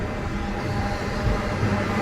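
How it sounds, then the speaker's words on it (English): Steady low rumbling and rolling noise from a vintage tram passing along a street in Porto, Portugal, continuous and fairly close throughout with no distinct bells or voices. "Tram will go by right now."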